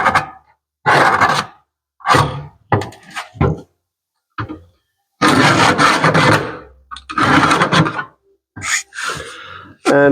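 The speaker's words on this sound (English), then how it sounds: "I'll make a scribe around it." A scribe scratches a line around a rusty car floor pan coated in black paint, in a series of short, loud, rasping strokes separated by pauses.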